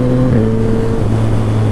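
A Yamaha FZ-09 motorcycle engine roars loudly and close, its pitch dropping in steps as the rider shifts through gears over a couple of seconds.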